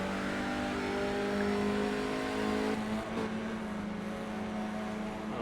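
Race car engine in a sim racing game at Mosport, a loud droning engine note with strong harmonics that holds steady, drops sharply for a moment, then carries on as the car oversteers through a corner.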